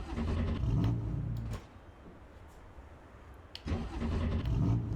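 A BMW M2 engine in the Assetto Corsa Evo racing game cranks and starts twice, each time catching into a loud rumbling idle with a brief quieter gap between.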